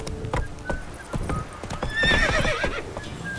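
Roach, a horse in The Witcher 3 video game, clip-clops with scattered hoof knocks and then lets out a loud, close neigh midway through.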